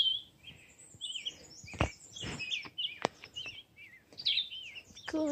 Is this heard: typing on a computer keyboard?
no